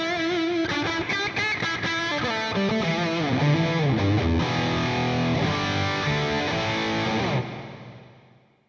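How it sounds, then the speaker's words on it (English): Electric guitar played through a Headrush Gigboard Marshall amp model with two drive pedals and reverb gives a loud distorted riff of chords and bends, ringing out with a reverb tail at the end. "I have my Marshall tone with 2 drives and a reverb."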